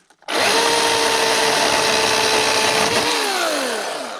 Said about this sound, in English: So good sharp chain on these battery saws makes a difference, as does bar oil and a decent battery.